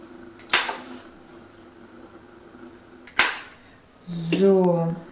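A 1/2 inch paper punch snaps sharply through the corners of a card, two loud crisp clicks a few seconds apart, followed by a brief voice at the end.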